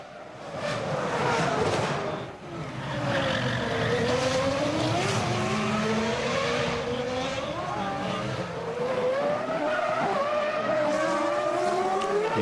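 Formula 1 cars from the 2001 Monaco Grand Prix free practice scream past on the street circuit, engine pitch rising and falling as they accelerate and brake through corners, loud and continuous under a commentator's voice.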